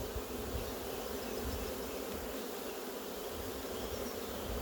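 Honey bees buzz around a hive outdoors, a dense continuous drone of many insects close by, steady and moderately quiet, with no voices.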